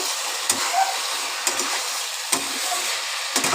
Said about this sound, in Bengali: এইবার মশলার সাথে ভালোভাবে আলু আর এঁচড়টাকে কষিয়ে নেব